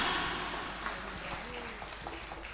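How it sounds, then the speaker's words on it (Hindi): An audience at an award ceremony applauds in a steady, fairly soft wash of clapping that gradually thins out. "जोरदार तालियां।"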